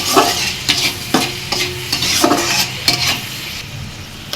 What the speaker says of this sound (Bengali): এটা ঢেকে ঢেকে ভেজে নিতে হবে পেঁয়াজটা নরম হওয়া পর্যন্ত।